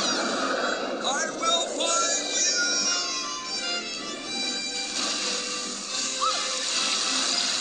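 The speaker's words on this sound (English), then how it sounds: "Except for maybe that waterfall." A waterfall rushes in an animated children's story, a steady loud roar of falling water throughout with voices speaking over it.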